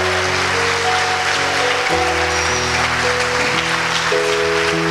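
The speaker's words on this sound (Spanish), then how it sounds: "dale ese aplauso al Señor" A church congregation at Casa de Gloria applauds steadily throughout, the broad clapping wash running under sustained keyboard or organ chords.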